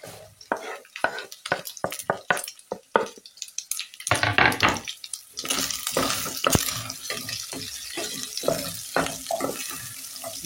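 Onions drop into a pan with meat and fry, giving a steady sizzle up close. Repeated sharp scrapes and knocks come from stirring, busiest early on and then settling into a fuller, continuous hiss.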